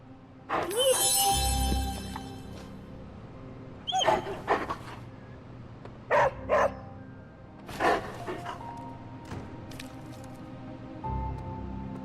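A dog named Charlie barks in the Marvel's Midnight Suns video game, several separate bursts of barking and yelping spread out with short pauses, mid-distance, along with soft squishy and dripping sounds.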